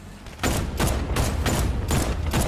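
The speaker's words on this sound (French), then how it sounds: "je tire comme un fou" Rapid bursts of gunfire in a Batman video game, several loud regularly spaced blasts in quick succession, each a sharp broad crack.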